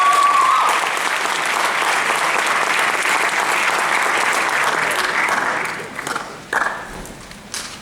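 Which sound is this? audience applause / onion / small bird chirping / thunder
audience applause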